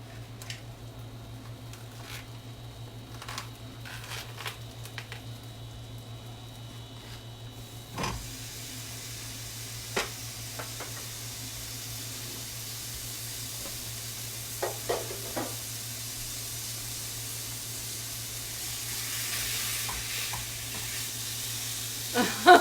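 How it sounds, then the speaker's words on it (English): Ground beef hamburger fries in a pan with a soft, steady sizzle under a constant low hum, broken by occasional clicks and stirring scrapes, the frying growing louder toward the end. "Now we'll fry up some hamburger."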